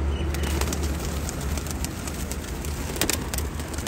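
Rampuri pigeons coo at a breeder's loft, a steady low murmur of calls under constant background noise, with a few faint higher chirps and rustles scattered through.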